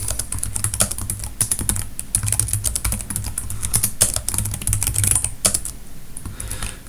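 Code being typed on a computer keyboard, a rapid, irregular run of close, crisp key clicks continuing without pause and without talk.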